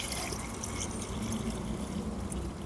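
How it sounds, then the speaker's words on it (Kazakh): Clean water poured into an enamel pot, a steady liquid rush with faint dripping and trickling running continuously and fairly quietly throughout, with no voices. "Осыған саламыз да үстіне таза суды құямыз"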